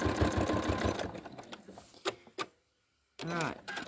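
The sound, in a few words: sewing machine stitching collage quilt fabrics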